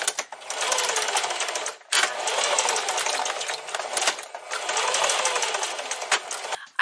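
Rapid mechanical chatter of a sewing machine stitching Velcro straps onto a bike bag made from plastic trash, running in long close bursts with brief pauses between them.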